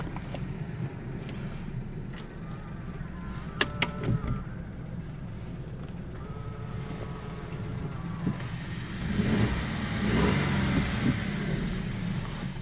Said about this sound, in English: We're going to take for a little drive down the alleyway.